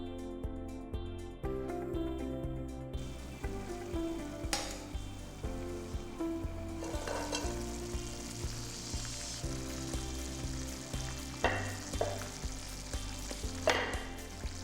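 Minced pork and eggplant braise in a covered pot with a steady low sizzle and faint bubbling, with a few sharper clicks, all under continuous background music.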